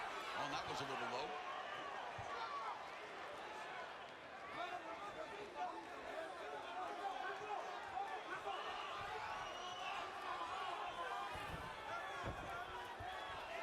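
Boxing crowd on its feet at a Cruz vs. Davis rematch roars continuously in a big arena, a loud sustained wall of cheering and yelling running steadily under a commentator's voice.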